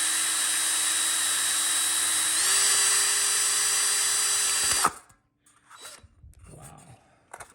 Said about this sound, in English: I'm going to start putting holes